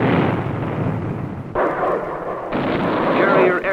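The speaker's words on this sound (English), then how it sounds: "Cruisers and destroyers shelled the area with hundreds of rounds of ammunition." Naval shelling as cruisers and destroyers fire artillery rounds, a loud continuous roar of booming blasts with abrupt shifts in intensity and no talk.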